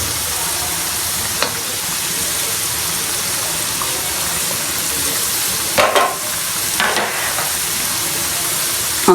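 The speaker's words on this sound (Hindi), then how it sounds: "आंच आपने हल्की नहीं रखनी, तेज ही रखनी है। फ्राई हो गया" Potato tornados fry in hot oil over high heat, giving a steady, loud sizzle throughout with a few brief sharper crackles and bubbling bursts near the end, no voices.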